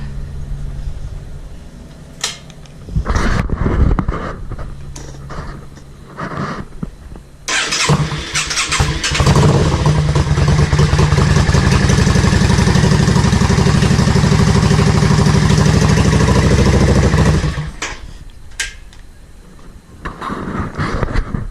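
A motorcycle fitted with a newly installed 9-litre peanut or Sportster-style fuel tank cranks over after a few sputtering attempts. It then starts and idles loudly and steadily up close for about ten seconds before shutting off.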